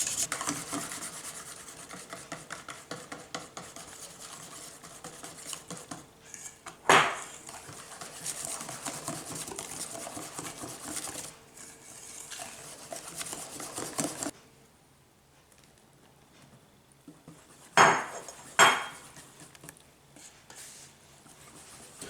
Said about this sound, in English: You have to mix this mixture until you dissolve the sugar